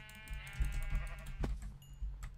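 A Minecraft sheep gives a short wavering bleat, fairly faint and brief, with soft keyboard clicks underneath.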